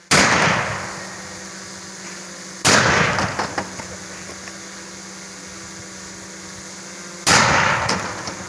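Three loud booms from a small homemade polished brass pirate cannon topped with a little pirate figure, each sharp blast trailing off into a decaying rumble, spaced several seconds apart with quiet background between them.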